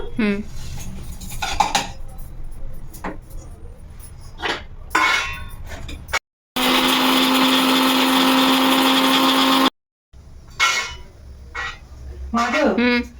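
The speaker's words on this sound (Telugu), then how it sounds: "ఇప్పుడు ఇవన్నీ కూడా పౌడర్ చేసుకోవాలి మనం మిక్సీలో వేస్తున్నాను" A kitchen mixer grinder powders coriander, pepper, cloves and cardamom for a stuffed brinjal masala curry. It gives a loud, steady whirring roar of about three seconds, set between stretches of talk and clinking utensils.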